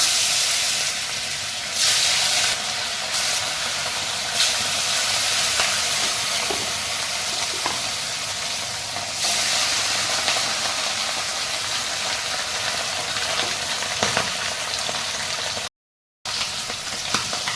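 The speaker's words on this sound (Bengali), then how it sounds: "আমি মাছগুলো ভেজে নেবো এরপর" Pieces of rohu fish sizzle steadily in hot mustard oil in a home kitchen pan, a dense, loud, continuous frying hiss with faint clinks, cut by one brief dropout near the end.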